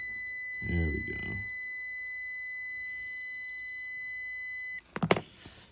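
A multimeter gives a continuity beep while testing a Maytag dryer's thermal fuse: one steady, high electronic tone held for about four seconds, then cut off by a few sharp clicks, with a short voice near the start.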